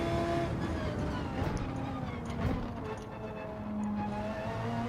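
An Audi R8 races at Mount Panorama in a driving game, its engine droning loudly and steadily with shifting pitch as it accelerates.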